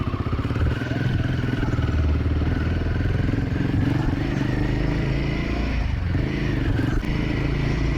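A Royal Enfield Himalayan 450 motorcycle is ridden, its engine droning steadily and loudly throughout with wind noise and slight changes in revs.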